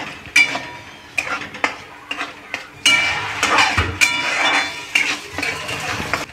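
Chicken being mixed with ginger-garlic paste in a pan: irregular clinks and scrapes of a spoon against metal, close and fairly loud, in uneven bursts with brief pauses.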